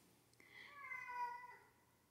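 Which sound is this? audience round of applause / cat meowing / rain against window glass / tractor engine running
cat meowing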